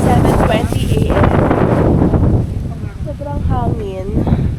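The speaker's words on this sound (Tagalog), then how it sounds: "Sobrang hangin." Strong morning wind at a campsite roars and buffets the microphone throughout, loud and close, while a person talks underneath it.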